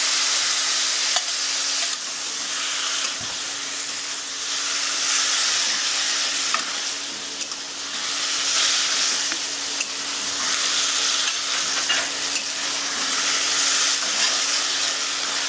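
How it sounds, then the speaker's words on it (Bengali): Potatoes and vegetable stems frying in oil and stirred in a pan, a loud continuous sizzle that swells and eases with each stir, close and without talk. "আলু আর ডাঁটা আমি কষতে থাকবো এইভাবে"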